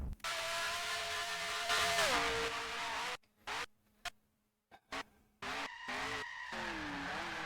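An F1 car in a racing simulator loses its rear end and skids on the Jarama circuit. Loud tyre squeal rides over a steady engine whine, then breaks into choppy bursts and short silent gaps before the engine noise resumes.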